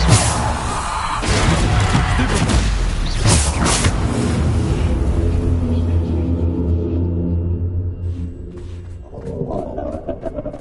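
Booming spell blasts from the Bombarda, Depulso and Defendo spells in the Hogwarts Legacy video game, a loud sustained low rumble with heavy impact bursts, easing off before one more surge near the end, with a voice shouting spell names over it.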